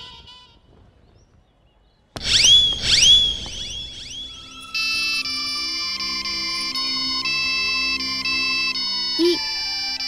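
After a short quiet pause, a loud electronic phone ringtone starts with bright chirps, then settles into a repeating synthetic melody.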